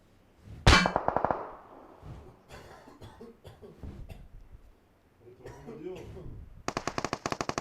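Gunfire in PUBG Mobile: a loud metallic shot near the start, then a rapid burst of automatic fire at the end, with people talking and coughing in between.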